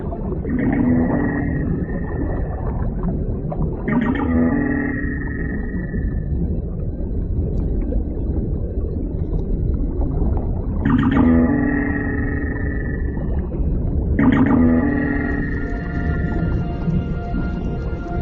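Dwarf minke whales call in two pairs of repeated, metallic, buzzing pulses, separated by a quieter underwater hum.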